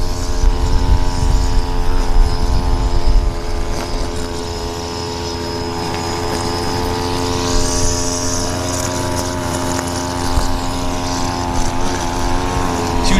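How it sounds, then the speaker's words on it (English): A Dash 8 Q400 turboprop airplane idles on the runway at Vancouver Airport, a loud, steady propeller drone with a sustained engine whine that fills the entire stretch with no voices. "if we're quick, we can catch the Q400, the Dash 8 actually. That's now right there on the runway."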